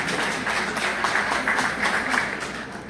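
An audience applauds at a national address on women's health in Haiti, a steady burst of clapping lasting a few seconds without speech.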